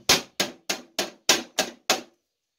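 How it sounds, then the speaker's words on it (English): Seven sharp hammer strikes land in a steady rhythm, each a crisp close knock on wood with a quick decay, driving down a dovetailed drawer's center support and bottom panels. "hammer down the center support and the bottom panels"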